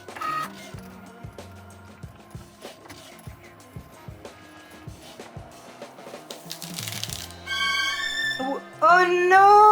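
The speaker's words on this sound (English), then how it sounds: "first I'm printing all the sticker sheets that I need" A printer prints sticker sheets with a rhythmic run of mechanical whirs, clicks and feed movements. The sound grows busier and louder toward the end, where a brief tonal passage appears.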